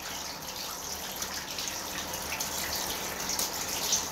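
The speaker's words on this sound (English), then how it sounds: "probably hear the water running" Water running from a tap into a bath, a steady continuous broadband rush with faint splashing texture, moderately distant and even throughout with no talking.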